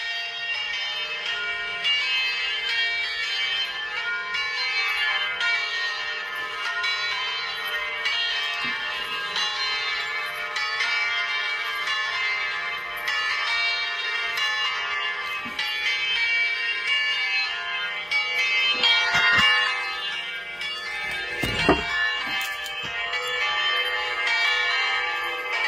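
Church bells ring on and on, a dense, steady metallic peal that fills the scene, with a brief sharp knock or thump near the end.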